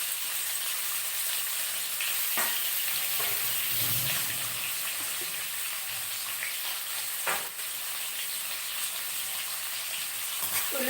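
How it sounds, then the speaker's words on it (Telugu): Chopped onions fry in a pan for a cauliflower curry, a steady close sizzle and crackle running throughout with a few brief stirring scrapes and no talking. "ఉల్లిపాయలు బాగా కొద్దిగా వేయించాలి అప్పట్లాగానే"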